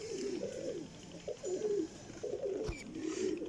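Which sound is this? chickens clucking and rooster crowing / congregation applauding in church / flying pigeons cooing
flying pigeons cooing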